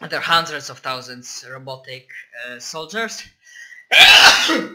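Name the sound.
sneeze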